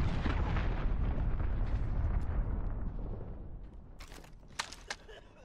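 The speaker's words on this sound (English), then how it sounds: "Enemy cruise missile incoming." A cruise missile strike in the shooter game Call of Duty: Modern Warfare lands as a loud, sustained roaring explosion that slowly decays over several seconds, followed by a few sharp crackling pops near the end.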